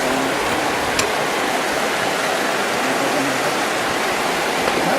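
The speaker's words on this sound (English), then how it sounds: "There's some rain," Steady rain falls in the Narrows canyon of Zion National Park, a dense, even hiss of water filling the space continuously, with one faint brief tick near the start and no voices.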